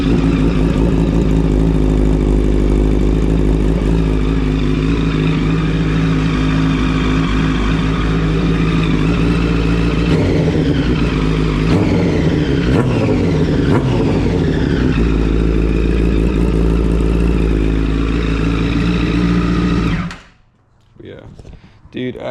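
A motorcycle engine, one of several bikes kept in a home garage, runs loud and close at a steady, throbbing idle for about twenty seconds, then cuts off abruptly into near silence.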